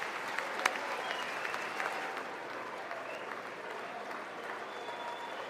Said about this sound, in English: Clap it up for them a little bit more